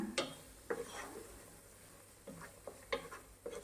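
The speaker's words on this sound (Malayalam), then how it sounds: "ഇനി തീ ചെറുതായി ഒന്ന് കൂട്ടി വെച്ച് മസാലകളെല്ലാം ഒന്ന് മൂപ്പിച്ചെടുക്കാം" Soft sizzling of spice powders frying in a pan for tomato rice, with intermittent stirring scrapes, a spoon tapping and scraping against metal several times; fairly quiet, no voices.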